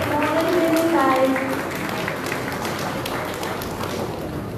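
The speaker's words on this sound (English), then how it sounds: "Can we have the applause coming?" Audience applause at a prize distribution for a cooking and coffee competition in Goa, a broad wash of clapping from a crowd, steady and moderately loud for several seconds with a voice talking over the start.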